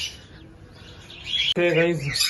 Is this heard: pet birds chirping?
yes